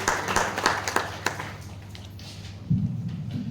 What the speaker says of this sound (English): He deserves a big round of applause for organizing this event over here.